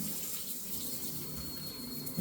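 Water pours steadily from the bathtub spout of an Anespa DX shower unit, a close, even rushing stream that holds throughout and swells slightly at the end.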